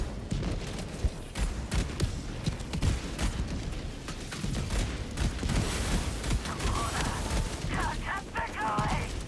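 Artillery barrage explosions in Helldivers 2 thump and crack in rapid, overlapping succession amid steady battle noise, while a voice talks over them and high whistling tones rise near the end.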